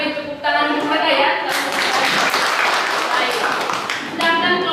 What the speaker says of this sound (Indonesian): kelompok 3 kita beri tepuk tangan kepada ya